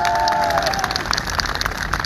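Audience at a political speech in Nepal applauding, a burst of clapping and crowd noise from a gathering, moderately loud and continuous over the brief moment.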